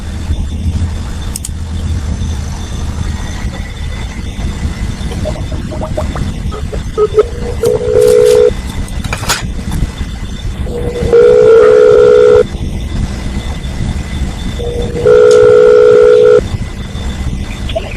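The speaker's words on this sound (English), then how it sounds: "I'm calling Patricia Barrera." Phone line with a steady tone, then three repeated ringback tones, each a couple of seconds long, separated by pauses, over a noisy, rumbling background.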